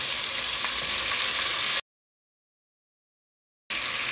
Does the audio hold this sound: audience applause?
no